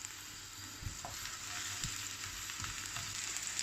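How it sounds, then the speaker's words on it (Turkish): Chopped onions sizzle and crackle steadily in oil close up, with a few soft stirring knocks from a wooden spoon. "Soğanlarımız yağda kösülsün."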